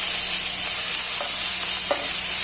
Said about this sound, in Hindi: और 1 पिंच हींग डालूंगी। उसके बाद प्याज डाल दूंगी।